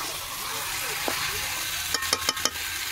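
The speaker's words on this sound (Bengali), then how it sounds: "আমি মাংসটা কষাচ্ছি।" Chicken sautéed in a pan sizzles steadily and close up, with a quick run of four sharp metallic stirring knocks near the end.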